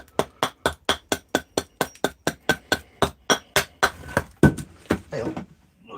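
An axe chops into willow while a large bowl is carved, about twenty quick, evenly spaced knocking strikes close up, loosening into a few irregular blows and scraping at the end.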